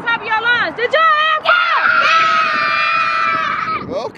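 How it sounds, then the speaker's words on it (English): A crowd of children screaming and whooping loudly together, sustained high-pitched voices rising in bursts between short pauses, with cheering shouts mixed in. "Scream to the top of your lungs."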